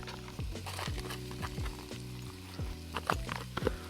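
Garlic sweating in a hot pan for Southern red beans and rice, a steady close sizzle with small crackling pops and occasional stirring scrapes, no talking.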